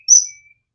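A single short, high whistle sounds inside a house, clear and close, rising briefly then fading within half a second against near silence.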